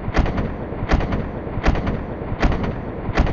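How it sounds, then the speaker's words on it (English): Automatic gunfire from the World of Guns: Gun Disassembly game, a rhythmic burst of five heavy, punchy shots evenly spaced under a second apart, loud and close with mechanical clatter between them. "you can see the difference between the single fire and auto fire"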